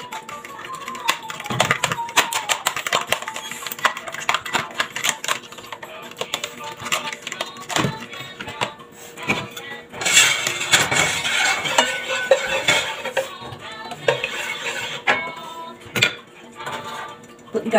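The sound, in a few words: beating eggs in a bowl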